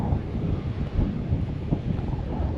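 Strong wind buffeting the microphone at a coastal lookout near Esperance, a loud, continuous low rumble with gusty surges and no talk.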